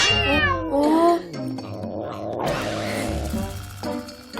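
Several cats meow and caterwaul while feeding close by, a loud drawn-out cry rising and falling at the start, then quieter overlapping growls and hiss-like noises over a steady background.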